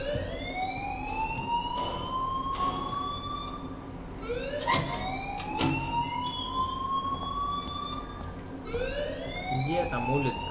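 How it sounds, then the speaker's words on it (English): A loud wailing alarm from the Life Is Strange video game repeats in long rising sweeps over a steady background drone, with several bright clanking hits and voices speaking faintly underneath. "please turn off that alarm since that's your job"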